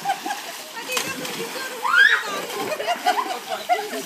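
Children splashing water outdoors in summer, a continuous slosh and splatter with a louder splash midway, while kids and an adult talk over it.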